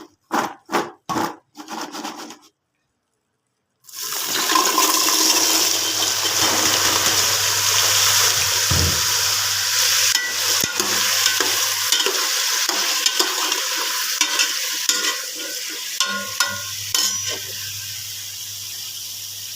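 A few quick knocks come first, then a short silence. Potatoes then drop into hot oil in a pan and sizzle loudly and steadily, while a utensil scrapes and taps as they are stirred.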